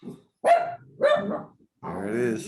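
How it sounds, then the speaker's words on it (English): A dog barks a few times at close range, loud, sharp barks separated by short pauses, with a brief spoken phrase in between. "Sorry, that's the dog."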